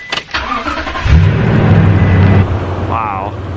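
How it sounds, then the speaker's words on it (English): A pickup truck engine cranks and catches in icy winter weather, then settles into a steady low idle as it warms up, loud and close. "Let's get the truck warming up."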